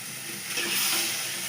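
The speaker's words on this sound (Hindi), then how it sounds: "अब इस तोरी की सब्ज़ी को अच्छी तरह भून लेना है।" Zucchini curry sautéing in oil in a pan gives a steady, close hiss and sizzle that swells briefly and then holds at an even level.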